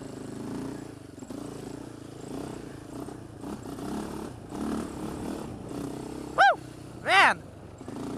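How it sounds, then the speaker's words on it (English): A Polaris Outlaw 525 quad runs under a rider over bumpy ground with a low, uneven engine drone and rattles, then two sharp rising-and-falling revs stand out near the end. "this is probably the most powerful quad I've ever ridden"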